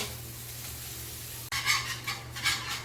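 Food is stirred in a cooking dish: a quiet sizzling hiss is followed by a sudden clack, then two scraping, rustling stirring strokes close by.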